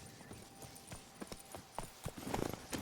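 Hooves of the horse Roach clip-clop at a steady gallop in The Witcher 3: Wild Hunt, Blood and Wine, a quick even beat with louder thumps near the end and no talk.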